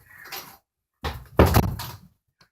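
A door being pushed firmly shut in a home with day-old ducklings, giving a short soft scrape followed by a solid thud and a quieter knock as it settles closed.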